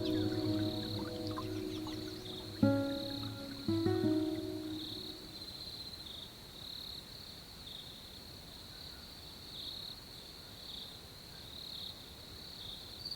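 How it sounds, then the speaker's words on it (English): Crickets trill in a jungle forest with a steady, high continuous chirring throughout, while brief tonal calls sound in the first few seconds, no voices. "Record the number of cricket chirps per minute."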